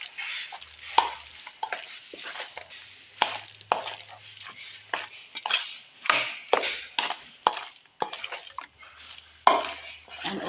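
Dinakdakan being stirred and mixed with mayonnaise, onion, ginger and chili, a steady series of wet scraping and clinking strokes against the bowl, close and moderately loud with no talking.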